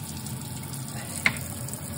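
Cold water running from a kitchen tap through a newly fitted Brita faucet filter, a steady low stream with one brief splash or clink partway through, fairly close and with no talking.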